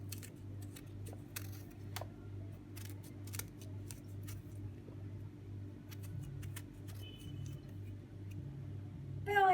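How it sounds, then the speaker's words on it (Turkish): Eggplants being peeled in stripes with their stems left on, a run of short, crisp scraping clicks at an irregular pace over a low steady hum, close and quiet, without speech. "Ayrıca patlıcanlarımızın uç kısımlarına erişmeden alacalı olarak soyuyoruz."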